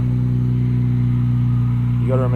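A 2024 Nissan Z twin-turbo V6 with an axle-back exhaust idles in a deep, steady drone, loud and close, with a voice starting over it near the end.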